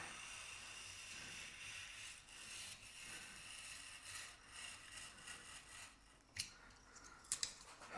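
Loose tape at a curled edge is cut in a bathroom build, with faint snips and scrapes over quiet room hiss and a few sharper cuts near the end.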